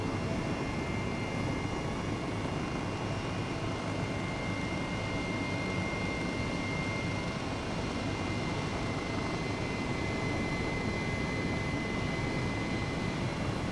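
Helicopter in Microsoft Flight Simulator, flying over Moya, Gran Canaria, a constant loud engine and rotor drone that stays steady with no change in pitch.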